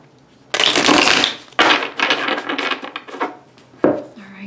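A deck of tarot cards being shuffled by hand, with several loud riffling bursts separated by brief pauses, close and clear with no talking.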